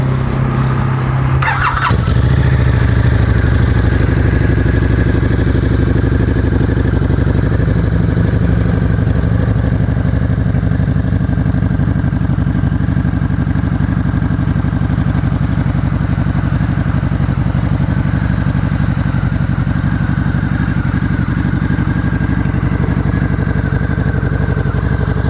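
Harley-Davidson Night Rod Special VRSCDX motorcycle engine starting with a brief whine, then idling loud and steady up close for about twenty seconds, a deep continuous rumble with no talk.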